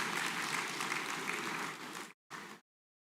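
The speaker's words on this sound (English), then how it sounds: "Can we give a rousing round of applause?" A rousing round of applause fills a hall at the Nasarawa Investment Summit in Nigeria, a dense, steady wash of clapping from a large crowd that cuts off abruptly, returns briefly, then stops.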